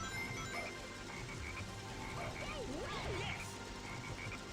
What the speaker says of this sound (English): It's that black frog again.